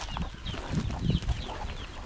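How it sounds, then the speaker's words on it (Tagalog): Farm chickens clucking together in a flock, a close, continuous jumble of soft clucks and chirps over low background rumble, with no one speaking. "Ito yung iba nating manok"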